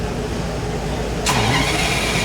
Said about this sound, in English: And you can hear the sound of V12.